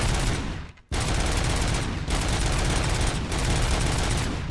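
Dense, unbroken automatic gunfire from the RoboCop: Rogue City video game, loud and close, with one brief break near the start and short dips later.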